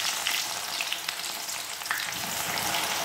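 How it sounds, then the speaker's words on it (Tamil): Okra pieces deep-fry in hot oil with a dense, even crackling sizzle that stays steady throughout, close and moderately quiet, with faint occasional pops and no speech. "இந்த வெண்டைக்காயெல்லாம் இப்போ எண்ணெய் காய்ச்ச உடனே நம்ம அதை டீப் ஃப்ரை பண்ணுவோம்."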